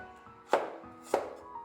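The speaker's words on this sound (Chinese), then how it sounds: "蒜子给它切片" A knife slices peeled garlic cloves on a cutting board, giving two crisp, close chopping strikes about half a second apart against a quiet background.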